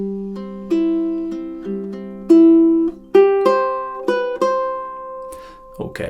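Ukulele playing measures 7 and 8 of a song on mostly open strings, a short run of bright plucked notes and harmonies sounding close, ending with a brief soft voice or handling noise.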